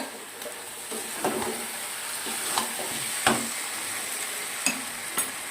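Fried pointed gourd pieces go into a simmering Bengali curry with poppy, peanut and coconut paste, producing a steady loud sizzle broken by several sharp spatula scrapes and clinks against the pan.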